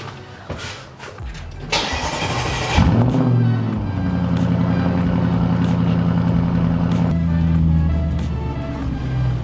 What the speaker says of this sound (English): That cold start is something else.